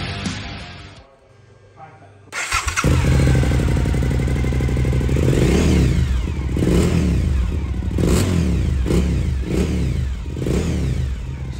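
A 2021 Suzuki V-Strom 1050 XT motorcycle engine starts and revs up loudly and close by. It rises through several throttle blips over a steady idle and carries on without a break.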